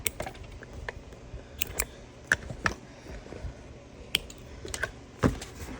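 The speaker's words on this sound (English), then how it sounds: "Off and snip the threads." Scissors snipping loose threads off a freshly sewn bag, several sharp close clicks and snips spaced irregularly over a quiet background.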